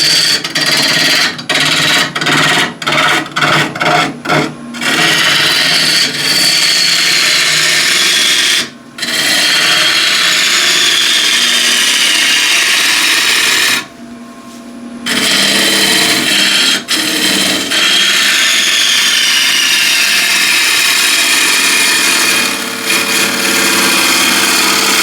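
A heavy, dense bowl blank turns on a wood lathe at 1100 RPM, with loud continuous rasping and rubbing from the tool on the wood, broken by a few sharp stops early on and two brief gaps.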